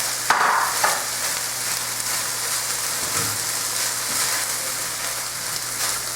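A spoon stirs apples into sauerkraut and bratwurst in a hot pan, with steady close sizzling and scraping throughout and a few sharper clatters near the start.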